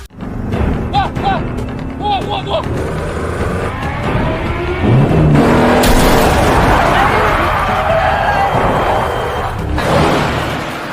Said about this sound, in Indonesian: terjadilah kejar mengejar di antara mereka berdua